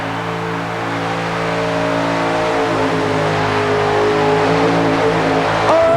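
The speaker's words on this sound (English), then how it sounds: "And Wheeler takes the green light countdown. No front wheel drive. But Wheeler's going to stay in the throttle." A super modified mud racing car with a Chevy engine roars at full throttle, a loud sustained rising drone with steady harmonic layers building toward the end, with no voices heard, at an indoor arena event.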